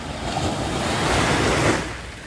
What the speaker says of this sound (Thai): ก็มีเสียงเกลียวขึ้น กระทบฝั่ง